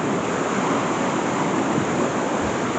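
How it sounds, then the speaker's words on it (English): Rushing water of a small waterfall pouring over rocks into a river in Wasdale, Cumbria, a steady, loud broadband roar close by with no break and no talking. "A bit of a waterfall here."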